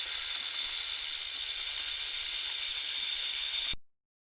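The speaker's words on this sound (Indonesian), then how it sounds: "Dan suara ular." A snake's hiss runs as a steady, loud, airy rush for several seconds with no other sound, then cuts off abruptly into silence.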